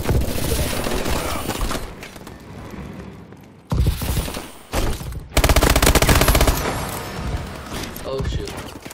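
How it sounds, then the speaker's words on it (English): Submachine gun fire in Call of Duty: Advanced Warfare, loud rapid bursts that cut in and out with short gaps, mixed with mechanical clicks and game sounds, no talking. "got a couple more kills using this SMG"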